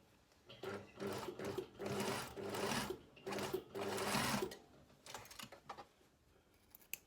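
A sewing machine stitches fabric for a blazer in several loud, close bursts of rapid whirring, separated by short pauses, followed by quieter handling sounds.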